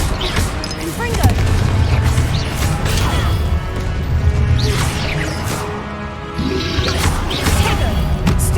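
Explosive Confringo spell blasts in the video game Hogwarts Legacy, heavy booming crashes with rumbling debris, repeating across the clip with brief lulls.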